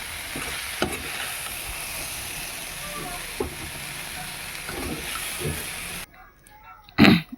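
Potatoes and cauliflower fry in hot oil in a kadai, a steady close hiss broken by a few scraping stirs, then the sizzle cuts off near the end before a brief loud clatter.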